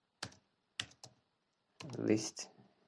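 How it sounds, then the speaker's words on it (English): A few close computer keyboard keystrokes, first spaced single clicks, then a denser burst of typing. "You are just typing the square bracket"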